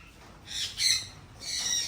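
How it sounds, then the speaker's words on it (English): Small birds in an aviary give a few short, high squawking calls close by, two bursts within a couple of seconds over a quiet background. "we will be working here at the small bird aviary"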